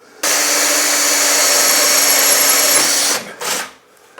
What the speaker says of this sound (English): Now, this drill bit has got a wax core which helps it to cool.